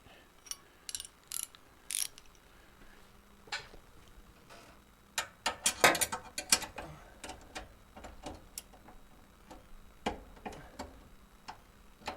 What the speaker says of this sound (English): I'm going to tighten up the tray bolts